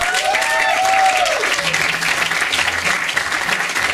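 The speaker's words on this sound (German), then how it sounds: "Einen recht großen und herzlichen Applaus für Gabi Tupper." Loud audience applause at a live outdoor stage show, a dense steady wash of clapping that fills the whole stretch, with a brief sung or whistled tone rising near the start.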